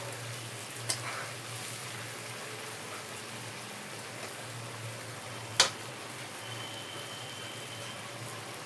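Katla fish fries in a pan over a lowered flame, giving a soft, even crackling sizzle throughout with one or two sharp pops, close and steady, with no talking.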